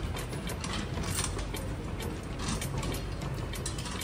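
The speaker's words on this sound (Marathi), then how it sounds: "समोर समोरचे स्क्रू लावूया" Screws are fastened during instrument maintenance, giving a continuous close mechanical ratcheting and clicking with faint gear-like creaks throughout.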